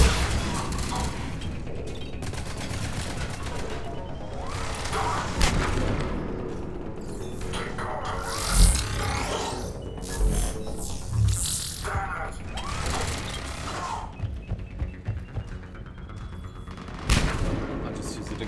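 Turrets fire in Mass Effect 3 combat, with rattling bursts of automatic gunfire, mechanical clanks and a few heavier booms, loud and uneven, while a player speaks at times over the din.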